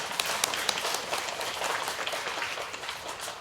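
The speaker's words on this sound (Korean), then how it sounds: "박수 한번 부탁드리겠습니다." An audience breaks into a short burst of applause, many hands clapping in a dense, steady patter at moderate distance, with no voices over it.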